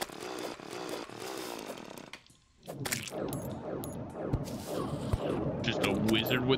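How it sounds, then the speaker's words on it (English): A chainsaw weapon in Terraria 1.4 whirs in rapid, sputtering bursts mixed with other game combat effects, dropping out briefly before resuming louder and denser, with people talking over the gameplay. "lizard with a chainsaw"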